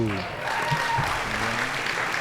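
Crowd applauds at a pro men's pickleball gold medal match, a steady close wash of clapping with a voice talking faintly underneath.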